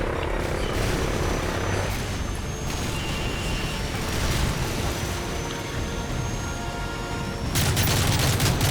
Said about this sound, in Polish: helikopter leci